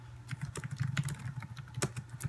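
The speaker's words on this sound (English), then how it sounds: "Excuse me for my typing" Rapid clattering of keys on a computer keyboard, close and fairly loud, with a steady run of sharp taps and no voices.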